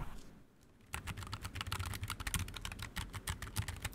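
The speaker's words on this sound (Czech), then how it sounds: "Každopádně zvuk té klávesnice." Rapid typing on a NuPhy Air60 mechanical keyboard, dense, crisp keystroke clicks heard up close after a brief quiet start, with no talking.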